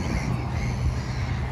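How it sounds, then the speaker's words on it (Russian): Gulls call at a beach in a loud, harsh, continuous squawking chorus over windy, rumbling background noise. "Смотри, чайки, Юля, смотри."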